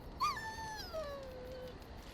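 A dog in the video game Dragon Age: Origins gives a single high whine that slides downward and fades, heard alone over a low steady background.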